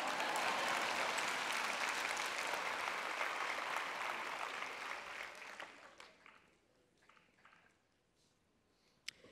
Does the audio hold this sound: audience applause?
yes